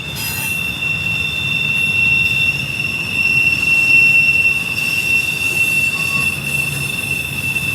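A US Postal Service freight train rolls through a curve, one wheel squealing in a loud, sustained high-pitched screech over a steady rumble of rolling cars, with no voices.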